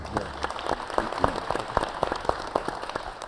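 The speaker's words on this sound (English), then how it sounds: "let's give Eric a round of applause" A short burst of patter-like clapping from a small audience at a government committee meeting, moderately loud and fairly even throughout.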